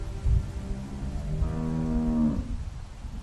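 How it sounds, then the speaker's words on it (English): A single long, low cow moo from The Walking Dead video game rises in the middle, fairly clear against quiet background rumble, with no talking. "How do you like that cow, Clem?"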